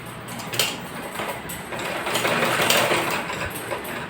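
A sewing machine stitches along the edge of a ladies' pant while a side chain is being attached, giving a close, steady whirring hum with a slight mechanical rattle and no talking.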